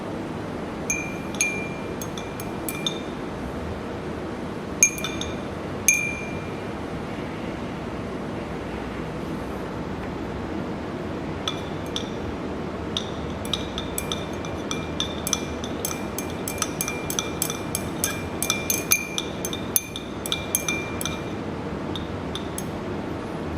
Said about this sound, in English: So that you can use the glass rod to help you stir it.